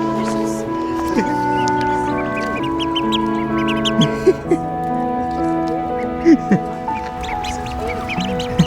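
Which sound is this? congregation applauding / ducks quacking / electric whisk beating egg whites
ducks quacking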